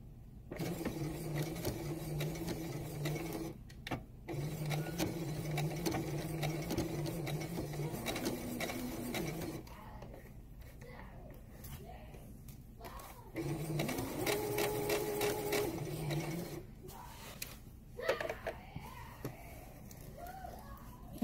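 A sewing machine stitches a girl's party dress with a straight stitch along a straight-edge guide, running in steady whirring bursts with short pauses between runs, close up, with faint background sounds in the gaps.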